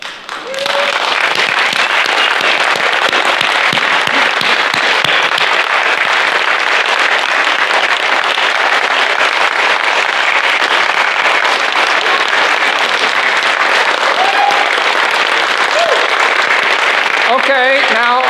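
Sustained applause from a church congregation at a Methodist church fills the room, a dense, steady wash of many hands clapping that holds loud and even throughout, with brief voices surfacing near the end.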